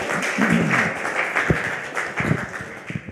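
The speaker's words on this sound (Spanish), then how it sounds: "Un aplauso." Applause from the audience at a palaeontology lecture session in Chile breaks out as a soft, diffuse patter of clapping, moderately distant and continuous for a few seconds.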